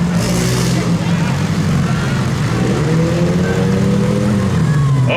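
At a demolition derby in Beeton, Ontario, a mini car with two bad front wheels keeps driving, its engine revving and rising in pitch under a crowd and an announcer talking over a loud mix.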